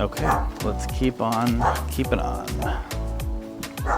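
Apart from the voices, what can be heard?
dogs barking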